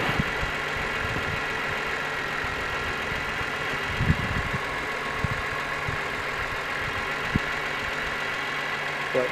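A BMW M3 engine idles steadily beneath a constant whir of a radiator fan, the motor's low hum partly masked, with a couple of brief knocks or clunks and no talking.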